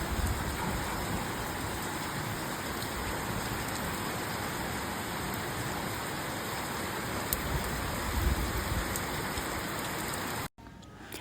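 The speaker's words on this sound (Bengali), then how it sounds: "বৃষ্টি পড়ছিল, সেটাই আমি ক্যাপচার করেছি" Steady rain falls close by, a dense, even hiss and patter that goes on without a break and stops abruptly just before the end.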